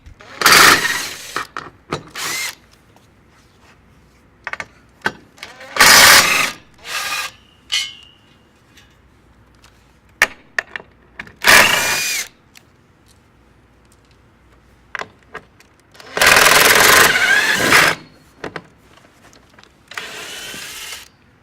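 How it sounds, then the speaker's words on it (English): A power tool loosening bolts on a Comfort Sleeper sofa bed mechanism, sounding in several loud bursts of whirring and ratcheting separated by quiet gaps, close by. "The top bolt I'm just going to loosen until he gets the other side removed"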